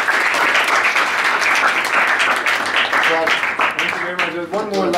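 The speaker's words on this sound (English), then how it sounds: "Let's give him a big clap" An audience at a talk by the Burj Al Arab general manager breaks into sustained, dense clapping that fills the room, with voices emerging over the applause toward the end.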